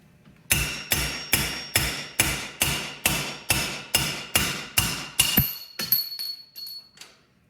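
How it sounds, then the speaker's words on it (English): Hammer striking a bicycle fork part, about fourteen sharp metallic blows at a steady, fairly quick rhythm, close and clear, slowing to a few lighter taps at the end. "now we can go ahead and hammer it out."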